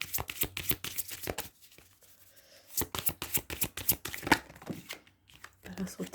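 Tarot cards are shuffled by hand in quick, rhythmic bursts of crisp riffling and slapping, with a short pause before the shuffling resumes, close and moderately loud.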